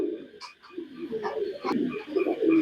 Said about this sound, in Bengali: এই দেখেন সেই রকম এক জোড়া কবুতর